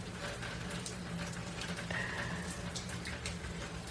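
Rain from an afternoon rainstorm falls steadily onto a lake, a dense, even hiss of drops with no pauses or voices.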